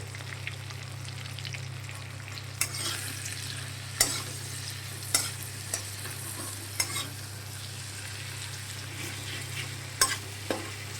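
Spice masala with tomato, turmeric and salt frying in a pan for a fish curry, a constant close sizzle under a low steady hum, punctuated every second or two by crisp spoon scrapes against the pan; no voices.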